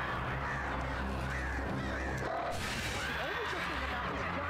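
Crows caw several times over a dense, rumbling ambience of mechanical noise in the Alan Wake video game, the bird calls fairly clear and close.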